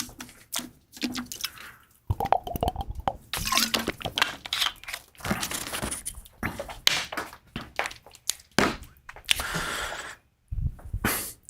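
Water drawn for a drink: scattered drips, brief pouring bursts and hollow thunks of a container, close and irregular, with short quiet gaps between.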